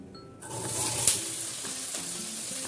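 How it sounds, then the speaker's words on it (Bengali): Okra pods hitting hot oil in a pan, a steady close sizzle that swells as they go in, with light stirring scrapes and small pops throughout. "আমি এখন তেলটা গরম হয়ে গেছে, আমি ভিন্ডিটা দিচ্ছি।"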